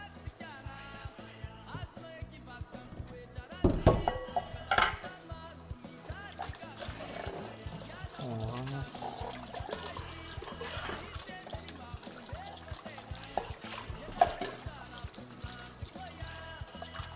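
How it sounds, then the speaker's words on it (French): Dishes being washed and rinsed under a running kitchen tap, with a steady rush of water and soft clinks and scrubbing, plus a louder splash burst in the middle. "Je finis la vaisselle et je le fais."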